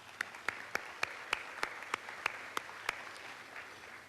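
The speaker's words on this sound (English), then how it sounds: "give yourselves a round of applause for all the hard work we did in 2023" Sparse, scattered clapping at a chamber of commerce banquet: a dozen or so sharp, spaced claps over a few seconds, fairly quiet and thinning out toward the end rather than a full ovation.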